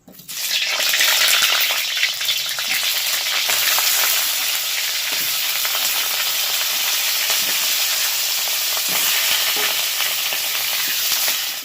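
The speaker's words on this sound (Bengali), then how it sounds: "এবার আলুগুলোকে পুরোপুরি একদম লাল করে ভেজে নেব।" New potatoes fry in hot mustard oil, a loud, close, continuous sizzle with a steady spattering hiss that holds for the whole stretch, with no talking.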